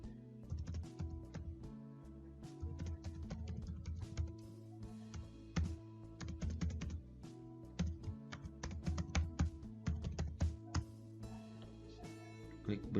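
Rapid, irregular clicking of a computer keyboard as an email address is typed, dense keystrokes close up over a low steady hum, with a voice speaking over it.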